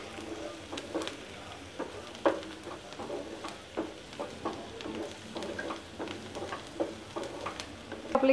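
Onion pieces fry and sizzle in a pan for a cashew masala curry, a steady soft crackle broken by frequent light scrapes and taps of a spatula stirring them, close and fairly quiet with no voices.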